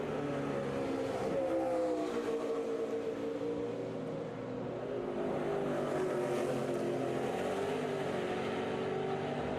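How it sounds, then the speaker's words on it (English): A NASCAR race car at the 2014 Gardner Denver 200 runs through the kink at speed, breaking a little traction, its engine a loud sustained roar with shifting pitch sweeping up and down over several seconds. "I hear Sam's car there as he went through the kink, breaking a little traction"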